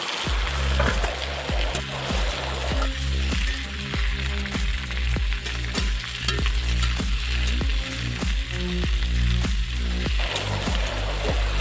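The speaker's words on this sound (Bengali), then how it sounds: "এবার সবজি দিয়ে দেব এবং লাল লাল করে ভেজে নেব।" Vegetables sizzle and fry in hot oil in a pan while preparing a dal recipe. A continuous hiss carries repeated scraping strokes of stirring at a steady rhythm, close and fairly loud, with no talking.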